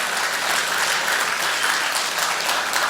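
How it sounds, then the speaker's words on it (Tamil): Steady, dense applause from an audience at a book fair gathering honoring a poet and writer, many hands clapping continuously at an even level for the whole stretch, with a faint murmur of voices underneath. "கைத்தட்டல் கொடுங்க."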